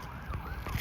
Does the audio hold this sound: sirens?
yes